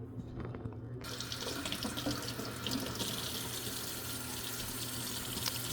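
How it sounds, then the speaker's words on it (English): Water pours steadily from a cup into an Instant Pot holding drained collard greens, a close, continuous splashing rush that starts after a quiet first second and runs to the end. "So I'm going to add"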